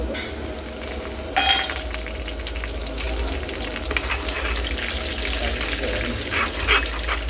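Curry leaves and dal crackling as they hit hot oil for tempering in a home kitchen, a steady sizzle with a sharp burst of spattering near the start, faint voices in the background.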